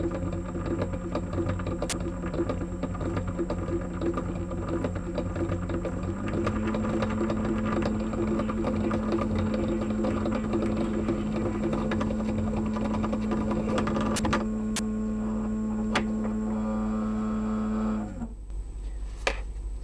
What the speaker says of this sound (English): So the noise coming from this clutch unit, I think that have some problems.